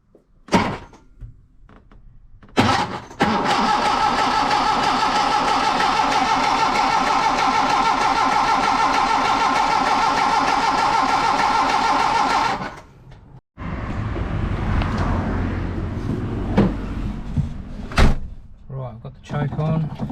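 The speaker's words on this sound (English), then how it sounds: "We'll just turn it over with the starter solenoid." A Hillman Superminx engine cranks on its starter solenoid with the ignition off: about ten seconds of loud, steady churning, then quieter mechanical rattles and knocks close by.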